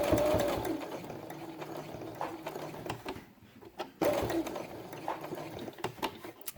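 Sewing machine stitching pieces of felt for a squirrel page of a quiet book, running in close bursts with a short backstitch and a brief pause midway.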